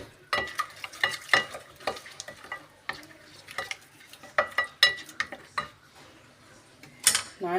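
Dry spices (paprika, black pepper, garlic powder, onion powder, salt and turmeric) are stirred together in a bowl, a spoon scraping and clinking in repeated close strokes with brief pauses between.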